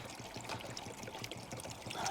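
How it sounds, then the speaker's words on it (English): Plain water poured into the cooling system of a Vauxhall / Opel Insignia during a home car service, a steady close gurgling pour and trickle running continuously without a break. "Now I'm just going to add just plain water, just let it go through a little bit more."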